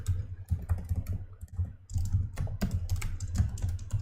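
Fingers type rapidly on a computer keyboard in a notepad program, the keys clicking in quick irregular bursts with a brief pause in the middle.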